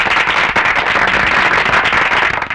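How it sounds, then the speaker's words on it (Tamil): Firecrackers bursting in a Tamil film scene, a dense, continuous crackle of rapid pops filling the clip without pause, loud and close, with no clear speech over it. "துப்பாக்கி சத்தம் கேட்காம பட்டாசு வெடிக்கிற சத்தம் கேட்கறத"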